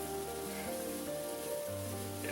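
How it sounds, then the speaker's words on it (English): A pot of liquid boils on a stove for shrimp and spinach pasta, a steady, dense bubbling hiss at a constant level, with a faint tonal hum running underneath and no voices. "Yeah, it's really boiling now."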